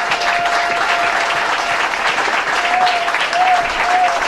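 A church congregation applauds and cheers in acclamation during a French-language sermon, with steady, dense clapping that holds throughout. A few voices ring out over it now and then.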